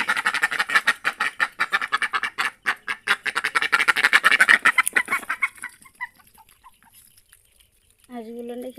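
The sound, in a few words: ducks quacking while being fed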